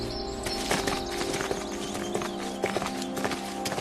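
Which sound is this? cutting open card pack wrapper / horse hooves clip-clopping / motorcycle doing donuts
horse hooves clip-clopping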